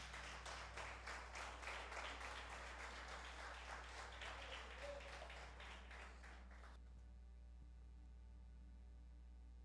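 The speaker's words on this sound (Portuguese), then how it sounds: "Aplauda o Senhor Jesus." A church congregation applauds, a dense sustained clapping that stops abruptly after about seven seconds, leaving a low steady hum; quiet overall.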